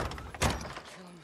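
A door forced open in the video game Days Gone: one dull, heavy thump lands close by amid low background rumble, with no talking.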